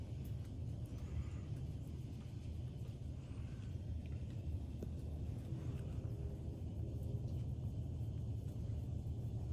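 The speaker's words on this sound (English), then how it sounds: "Oh, you're purring." A black cat purrs close and continuously, a low, rumbling, evenly pulsing drone that holds steady throughout with no voices over it.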